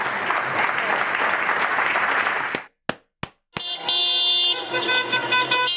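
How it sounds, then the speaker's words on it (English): A crowd claps loudly and continuously, broken by a few abrupt cut-offs, then followed by a blaring, sustained horn-like tone. "Clap to your heart's content. Just clap away."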